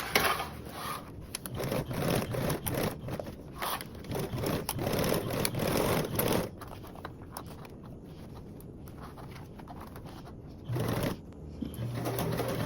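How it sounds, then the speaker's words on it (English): A sewing machine stitches a seam in bursts of rapid, close whirring that stop partway through, followed by a quieter stretch and a brief final run. "we're going to start sewing"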